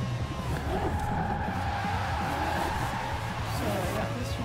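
Tires of a Lamborghini Aventador skid and squeal continuously while drifting in the Forza Horizon racing game, a sustained screech layered over a steady engine drone, with a voice talking over it.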